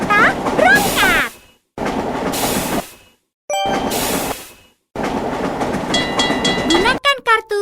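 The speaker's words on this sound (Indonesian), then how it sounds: "Kereta berangkat." In the train map of a mobile board game, a departing train plays as short bursts of rumbling rail noise and whistle tones separated by gaps, with electronic chimes and jingles at the end.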